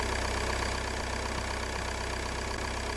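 A car engine in the Roblox video game drones steadily at a constant pitch, like a continuous idle or cruise, loud and uninterrupted with no talking.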